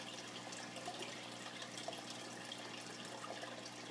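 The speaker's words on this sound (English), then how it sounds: "all the noise you hear is from the hang on the back filter" A hang-on-back filter in a turtle tank pours water back in, giving a steady, close splashing trickle that holds even and unbroken throughout.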